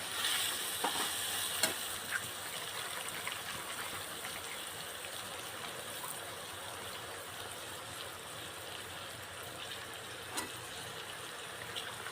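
Potatoes go into tindora (ivy gourd) already frying in oil and are stirred, a soft continuous sizzle with a few sharp clatters and scrapes, fairly quiet and steady with no talk.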